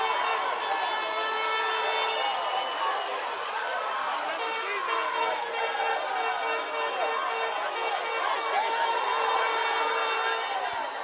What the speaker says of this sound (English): And the crowd goes nuts here at the Sportsplex.